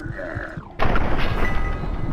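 A loud, sharp blast of Fallout 3 gunfire erupts partway through, followed by sustained noisy action sounds.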